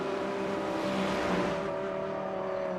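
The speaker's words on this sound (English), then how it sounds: "You can hear the engine note there." Race car engine in the Virtual Belcar 2022 sim-racing round at Barcelona, a steady buzzing drone held at an even pitch for a few seconds, heard alone.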